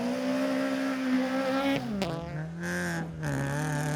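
Peugeot 208 R2 rally car on a forest stage, its engine howling at high revs, then dropping sharply on a downshift before revving back up, fairly close and alone.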